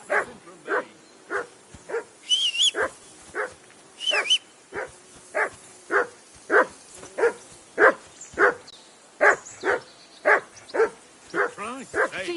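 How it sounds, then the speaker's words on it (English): Dog in Kingdom Come: Deliverance II barking steadily, about twenty sharp barks in an even rhythm, loud and close, with a couple of brief whines or yips mixed in and no speech. "Call off that damn dog!"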